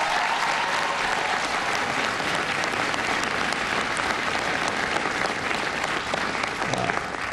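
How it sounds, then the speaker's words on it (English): Sustained audience applause at a presidential bill signing for VA reform, a dense, even wash of many hands clapping continuously with faint crowd murmur beneath. "Give James a big round of applause."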